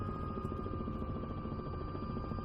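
A helicopter in Microsoft Flight Simulator 2024 gives off a constant rotor and engine drone with a steady whine, close and unbroken for a few seconds, with no talk.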